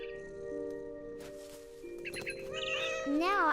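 An agitated cat in the What Remains of Edith Finch video game lets out several rising, wailing meows that grow louder toward the end, over a sustained musical drone.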